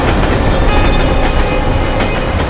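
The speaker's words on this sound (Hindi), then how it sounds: "जैसे ही ट्रेन की आवाज़ सुनाई दी थी" A train passes close by with a steady, loud rumble and faint clickety-clack of rail cars, rolling on without a break.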